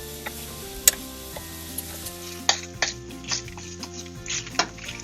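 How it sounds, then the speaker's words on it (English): Onions sauteing with salt in a pan for pork vindaloo, a steady soft sizzle with occasional stirring scrapes and light utensil clicks, close and continuous with no talking. "I'm gonna saute it well, putting some salt too."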